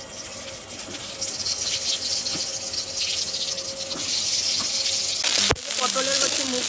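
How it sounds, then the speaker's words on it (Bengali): Pointed gourds (potol) frying in hot oil with salt and turmeric, a steady close sizzle that runs for several seconds before a sudden clunk and a quieter stretch at the end. "পটলের হচ্ছে মুখগুলোকে একটু ভেজে নিচ্ছি"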